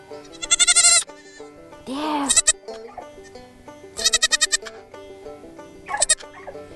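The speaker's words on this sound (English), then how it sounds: "We have a baby goat here that wants to talk to us" A baby goat bleats repeatedly in loud, close, wavering cries, with pauses between calls and a brief spoken word in between.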